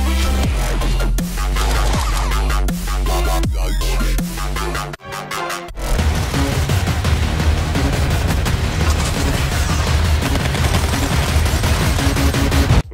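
Dense, continuous gunfire fills a shooter video game, with rapid automatic bursts and heavy booms layered over loud, fast music. The volume stays high the whole way through, with one brief dip near the middle.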